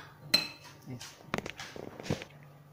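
Pear tart batter with almond powder and butter is stirred in a bowl, giving scattered utensil clinks and scrapes against the dish, close and fairly quiet, with no talking.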